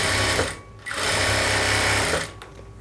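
A sewing machine stitches the side border of a dress in two loud, steady close-up runs with a short slowdown between them.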